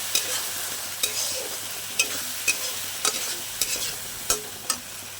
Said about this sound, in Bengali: এবার আমি মশলাটার মধ্যে ছোলার ডালটা দিয়ে দেবো, দিয়ে আমি আর একটু ভালো করে নেড়ে চেড়ে ভেজে নেব।